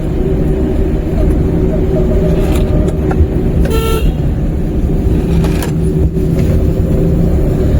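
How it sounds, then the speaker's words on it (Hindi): Maruti 800 car engine running close by with a steady road rumble as it pulls away, a brief horn-like tone sounding midway. "अब गाड़ी भगाते हैं यहाँ से"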